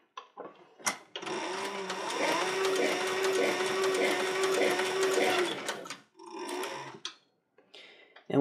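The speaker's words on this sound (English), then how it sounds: "at least on this sewing machine" A sewing machine stitches leather in one sustained burst of rapid, regular stitching for several seconds, framed by brief handling clicks and short pauses before and after.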